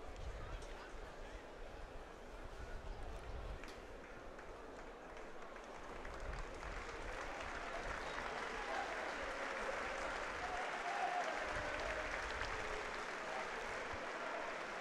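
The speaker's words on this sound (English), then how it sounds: "And again, a good round of applause from the Trinity following." Wakefield Trinity rugby league supporters at a York Knights cup match applaud from the stands, a distant, steady wash of crowd clapping and murmur under the stadium ambience.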